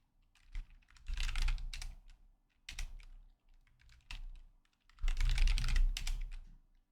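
Computer keyboard arrow keys are pressed in quick clusters of clicks and taps, close and fairly loud, with short pauses between bursts and no talking.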